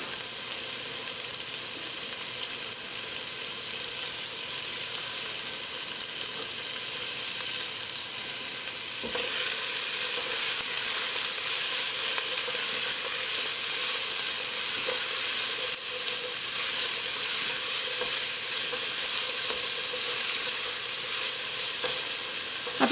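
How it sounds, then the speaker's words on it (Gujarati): Big chillies frying in hot oil with cumin in a pan for a Gujarati macaroni and corn coconut curry, giving a steady, loud, continuous sizzle that swells slightly partway through, with no talking. "તો આપણે લઈને હવે આપણા મોટા મરચાં નાખી દઈશું એની અંદર ને એને જરાક તરાવા દઈશું."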